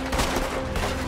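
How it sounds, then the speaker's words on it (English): A Gatling gun fires in Red Dead Redemption 2, a dense, continuous stream of rapid gunfire filling a short burst, loud and close, with no voices over it. "Can we use the Gatling gun? Fire."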